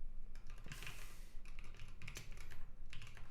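Code being typed on a computer keyboard during a live Rust programming session, with bursts of close, crisp key clicks separated by brief pauses and no talking.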